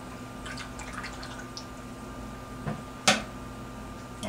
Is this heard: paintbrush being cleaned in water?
yes